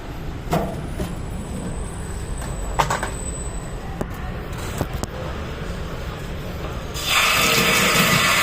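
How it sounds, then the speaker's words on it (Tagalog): Tap water starts running loudly near the end as plant roots are rinsed under it, after a stretch of quiet handling clatter and small knocks. "Uhugasan natin siya dito."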